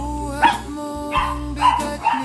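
A dog barks and yips several times in short bursts at a house, close and loud, with a steady low hum underneath.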